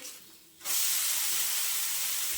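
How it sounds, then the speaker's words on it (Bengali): Palm pitha (taler pitha) frying in hot oil bursts into a loud, steady hiss and sizzle after a brief quieter stretch, and the hiss holds close and even to the end. "আর এইভাবে করে আমি সব পিঠেগুলি ভেজে নেব"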